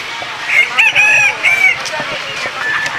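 A rooster crows loudly and close by, one drawn-out call followed by a shorter second crow, with faint background noise.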